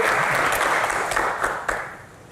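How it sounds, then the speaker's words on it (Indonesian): Audience applause during a hospital-costs Q&A session, a short burst of dense clapping from a room full of people, loud at first and fading away within two seconds. "Tepuk tangan dulu lah untuk kita ini."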